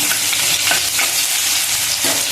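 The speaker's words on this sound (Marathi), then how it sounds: "जिरं फ्राय झालं की ठेचलेला लसूण चार पाच लसूण पाकळ्या ठेचलेला घालून घ्यायचा" Crushed garlic hits hot oil with cumin seeds for a spicy fenugreek curry, giving a loud, steady sizzle with a few soft stirring scrapes over about two seconds.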